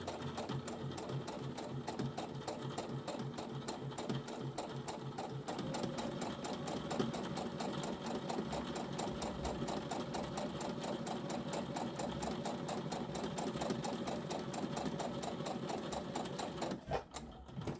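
A sewing machine runs steadily, stitching a tote bag seam close to the fabric edge with under a 1/4 inch seam allowance. The motor whirs continuously and loudly up close, with no pauses or talk.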